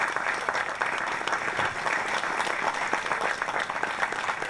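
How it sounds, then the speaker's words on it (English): Dense, steady applause from an award ceremony audience fills the whole stretch, many hands clapping at once at an even, sustained level with no speech over it. "I think all of you also would like to show your appreciation by a big, big applause for Fariella Trini."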